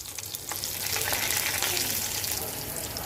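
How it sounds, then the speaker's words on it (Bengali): Green chillies and black cumin fry in hot oil left from frying fish, a dense, loud, continuous sizzle with crackling spatter close by and no talk. "কাঁচা মরিচটা যখন একটু ভাজা হয়ে যাবে"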